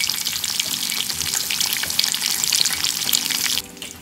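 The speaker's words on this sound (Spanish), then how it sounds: "Por último vamos a freír nuestra milanesa." A panko-breaded milanesa fries in very hot oil, a dense, loud crackling sizzle up close that carries on steadily before dropping away sharply at the end.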